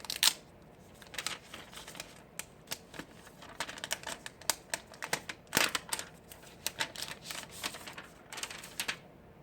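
Someone opens the retail box of a Nextbit Robin phone, producing a run of close, sharp clicks, taps and light cardboard rustles at an uneven rhythm.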